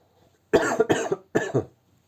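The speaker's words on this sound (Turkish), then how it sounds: "Videoyu resmen baltaladı yani şu an benim öksürüğüm" Three sharp, forceful coughs from one person, the first two close together and the third after a short pause, heard near and alone.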